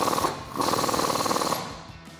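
A ratcheting 19mm socket tightening a bolt on a Jeep Wrangler JK during a 3-inch lift kit install, a rapid buzzing ratchet run in two close bursts that fade out at the end.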